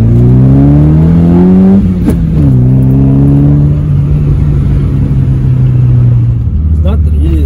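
Toyota Corolla 160i GLS with an aftermarket intake, engine revving up then settling to a deep, moderate drone, loud and close, with someone talking over it.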